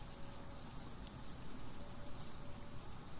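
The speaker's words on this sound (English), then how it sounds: "Because it's now raining, so no problems with water whatsoever." Steady rain falls in the video game Sheltered, a dense, even patter that holds at a constant level throughout with no voices over it.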